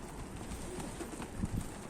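Soft pigeon coos from tumbler pigeons drift through steady background noise, a few low murmuring calls near the end.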